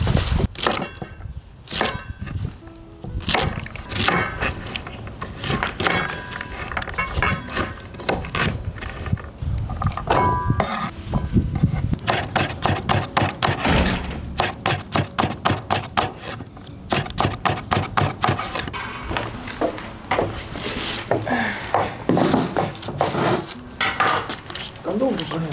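A knife chops three potatoes on a wooden board in a home kitchen, the cuts settling into a fast, steady rhythm in the second half, with clattering pans and utensils in between.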